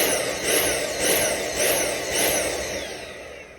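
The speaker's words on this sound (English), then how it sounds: "a common problem with Dyson cordless vacuums is when the vacuum does something that's known as pulsing" A Dyson cordless vacuum motor whirs in repeated surges, rising and cutting back roughly every half second in a steady pulsing rhythm from a suction fault, close and moderately loud.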